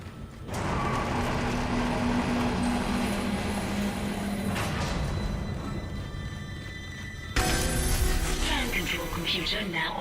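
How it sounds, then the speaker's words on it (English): A tram pulls into a station in the video game Dead Space, a sustained heavy mechanical rumble and whir that breaks off, then restarts with a sharp clank and hiss. "Shipwide tram system reinitialized. All trams now operational. Tram arriving at flight deck station."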